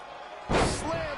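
In the WWE 2K20 wrestling game, a wrestler is slammed onto the mat with one heavy crash and a short rumbling tail. Game commentary talk runs underneath.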